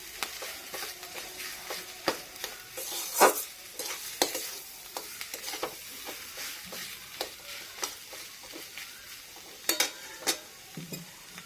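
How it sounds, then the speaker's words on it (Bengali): Onion and potato fry in oil with turmeric while a spoon stirs and scrapes the pan in repeated sharp clinks over a continuous close sizzle, no voices. "আমি একটু তেলের উপর নাড়াচাড়া করে নিলাম একটু হলুদ দিলাম"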